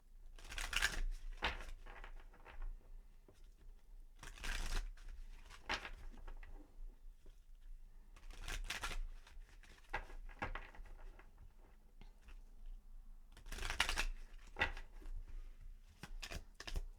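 Angel oracle cards being shuffled by hand, giving soft papery riffles and patters in several brief bursts separated by quiet pauses, close and fairly faint with no talking.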